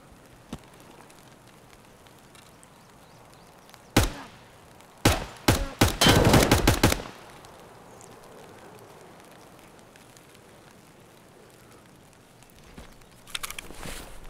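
Gunfire in the shooter game Escape from Tarkov: a single loud shot, then a rapid cluster of sharp reports, set against a quiet hissing background with no talking.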